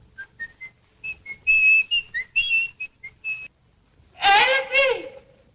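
A man's eerie, wavering whistle carries a string of short tonal phrases in a quiet space, then a woman's anguished cry rings out loudly twice near the end.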